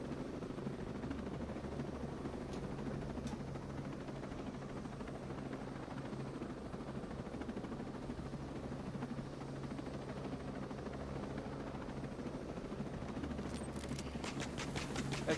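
A helicopter in the video game Ghost Recon Breakpoint, heard as a steady droning rotor and engine roar that holds throughout, with some sharper clicking noise near the end.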